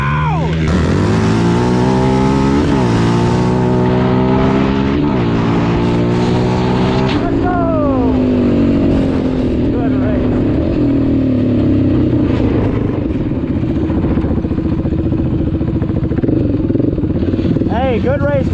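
Two Yamaha Raptor ATVs, a 2020 Raptor 700R and a 2006 Raptor 700, drag racing at Carolina Adventure: loud engines rev and rise through gear shifts, then fade away, with people talking throughout.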